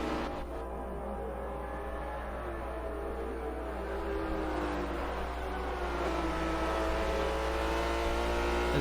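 Race cars at a WEC race at Mugello, near turn 10 Scarperia, make a sustained, loud engine drone with rising and falling pitch as they accelerate past.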